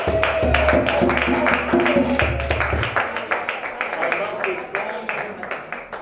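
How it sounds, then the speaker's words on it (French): Audience applause for a couple at a 40th birthday celebration, a dense, steady patter of clapping with a few louder claps mixed in. A voice talks over it at first, and the clapping carries on alone after that. "applaudissons pour eux"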